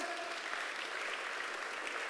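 A church congregation applauding God during a sermon, a dense continuous wash of clapping from many people, steady and even over its short span, with no speech.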